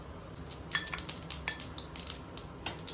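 A teaspoon of mustard seeds popping in hot virgin coconut oil in a pan: sharp, close crackles and snaps, about a dozen in an irregular patter over a faint sizzle, with no talking.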